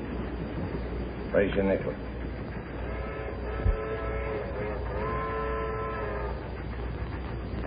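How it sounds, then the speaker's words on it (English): A train draws near with repeated drawn-out horn blasts and rumbling railcars, heard under close conversation indoors. "That sounds like the train from Chicago."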